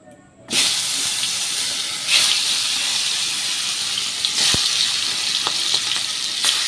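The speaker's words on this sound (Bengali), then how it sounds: "মাছগুলো ছেড়ে দেবো, দিয়ে আমি মাছগুলো ভালো করে ভেজে নেব।" Pieces of boal fish drop into hot oil and set off a sudden loud, continuous frying hiss that holds steady, with a few small crackles and spatters over its length.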